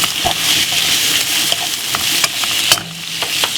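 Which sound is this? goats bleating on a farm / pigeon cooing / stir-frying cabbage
stir-frying cabbage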